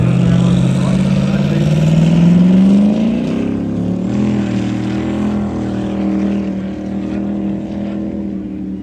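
A loud racing powerboat engine roars steadily at about 95 miles an hour, rising in pitch early on then holding a strong, continuous drone.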